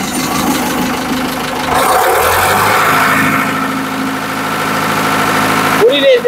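A second-hand tractor engine runs loud and close, revving at full throttle with a rough, heavy drone that swells midway, and a voice speaks briefly near the end.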